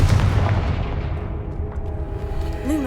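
A Confringo blasting spell in Hogwarts Legacy explodes with a loud, booming blast that rolls into a long rumbling decay, with a rising magical whoosh near the end.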